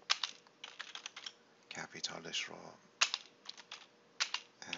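Someone types on a computer keyboard in quick irregular bursts of close, crisp key clicks. Someone talks quietly over the typing.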